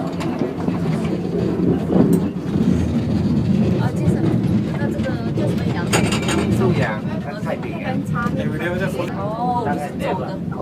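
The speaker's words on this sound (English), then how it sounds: "This is the funicular. Name of the car is funicular." A funicular car climbing at Cape of Good Hope toward the lighthouse rumbles and clatters steadily at close range, with people talking over the running noise throughout.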